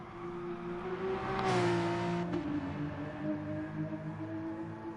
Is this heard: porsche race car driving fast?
yes